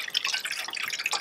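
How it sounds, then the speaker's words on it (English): Cold water rinsing wild leeks in a colander makes a soft, continuous patter of drips and splashes, close and fairly quiet, with no talking. "And then just rinse them with some cold water"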